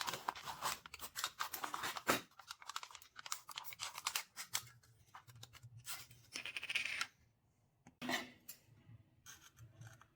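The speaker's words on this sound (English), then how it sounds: "Using scissors, I make a straight cut down the side of the aluminum can to open it up flat." Scissors cut through a thin aluminum soda can in a series of crisp metallic snips and scraping crunches, close and fairly quiet, with short pauses between cuts.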